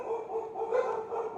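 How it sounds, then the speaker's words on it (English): Dogs bark indoors at some distance, a few faint muffled yaps in quick succession during a quiet home recording. "apologize for the dogs barking"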